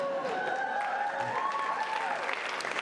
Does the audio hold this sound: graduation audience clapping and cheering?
yes